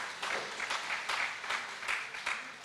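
An audience at a panel discussion on Dalit rights and reservation applauds, a soft, distant patter of many hands clapping with slight swells, fairly faint and without speech.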